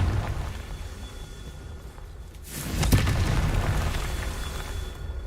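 A Confringo fire spell cast in Hogwarts Legacy bursts into a sudden explosion, a loud boom with a rumbling tail over steady game ambience.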